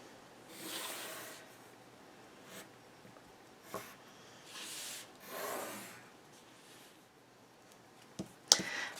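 Pencil drawing lines on chipboard for an album project: soft, close scratchy rubbing strokes in several short passes, quiet with small clicks near the end.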